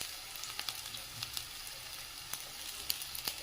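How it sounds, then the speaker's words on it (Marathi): Green chili sizzles in a pan with onion, a steady close hiss of hot oil dotted with small crackles and pops, with no talk. "त्यात मी आता हिरवी मिरची टाकणार आहे"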